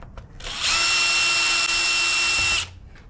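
A power drill whirs in one steady burst of about two seconds, backing screws out of a panel on a Firman generator at close range, with faint handling noises before and after.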